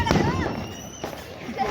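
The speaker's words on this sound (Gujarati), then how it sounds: "મોટા ફટાકડા હાથમાં ફોડવાના ધંધા કરે છે." Diwali firecrackers burst outdoors, a sharp bang at the start and another crack about a second later, with people talking over and between the blasts.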